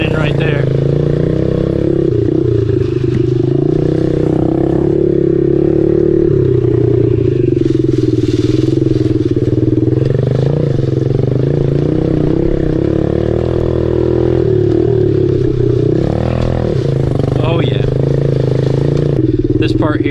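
A Honda CRF110 dirt bike ridden off-road on a downhill trail with ruts and off-camber turns, its small engine droning steadily close by through the whole ride, the pitch rising and falling with throttle, with some rattle and scraping.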